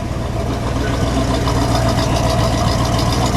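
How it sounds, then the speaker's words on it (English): A 1968 Pontiac GTO idles close by with a steady, loud, low rumbling lope that holds even throughout, with no talking over it. "Let me listen to that idle that made you purchase it."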